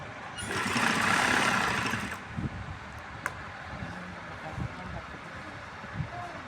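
A sewing machine stitches piping onto a seam of a men's garment in a brief, fairly loud whirring run of about two seconds. Quieter handling knocks and a faint voice follow.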